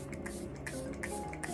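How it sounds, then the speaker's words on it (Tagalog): Focal Your Setting Spray mists onto a face in several short, soft hissing puffs, spaced unevenly and heard up close and fairly quiet. "I'm gonna spray the Focal Your Setting Spray today."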